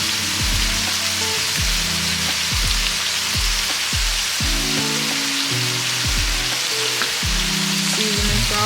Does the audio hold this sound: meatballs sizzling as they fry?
yes